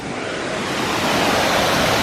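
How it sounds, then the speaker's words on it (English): Colwith Force, a small waterfall near Elterwater, roars as a steady, loud broadband rush of falling water close by, continuous and unbroken throughout with no voices. "Nice little waterfall there."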